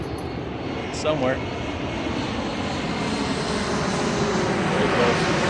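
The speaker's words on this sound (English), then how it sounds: "Airplane." An airplane engine drones steadily throughout, passing near an aerospace museum where planes are spotted; the broad roar stays fairly loud and constant while a person speaks briefly over it.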